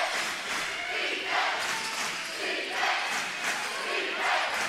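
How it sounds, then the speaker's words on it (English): Crowd noise at a college men's basketball game between Southern Virginia and Penn State Harrisburg, a continuous roar of cheering and yelling in a gym that swells and eases in waves, heard at a distance. "And this crowd really helping out."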